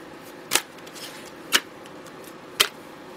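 Three crisp riffles of tarot cards being shuffled, about a second apart, close up against a quiet room.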